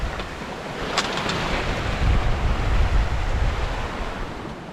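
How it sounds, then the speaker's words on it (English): Strong wind buffets the microphone on a sailboat at sea off Scotland's west coast, a steady loud roar with rushing waves beneath and a few brief higher clicks near the start. "Mind you, super wind."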